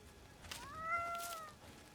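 A cat meows in The Great Circle video game, set in a Siam jungle at night: one drawn-out, rising then falling mew, close and clear over a faint ambient bed, with no talk.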